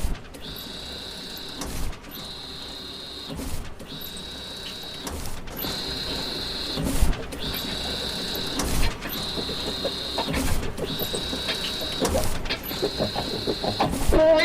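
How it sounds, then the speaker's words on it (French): A very large architect-style wide-format printer runs its print job, giving a steady mechanical whir broken by repeated carriage passes and short pauses in a regular rhythm, close and fairly loud with no talk over it. "l'impression se fait sur cette très grosse imprimante, là en échelle réelle"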